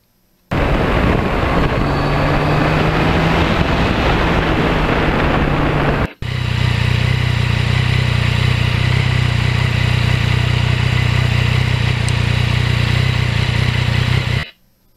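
A Yamaha MT-09 motorcycle ridden on back roads, its engine droning loud and steady close to the microphone with wind rush, a brief cut around six seconds, then the same strong drone until it stops.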